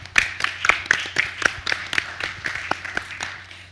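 Brief round of applause for members of a planning committee at a clan conference, a small group clapping near the mic in uneven bursts for a few seconds over a low steady hum.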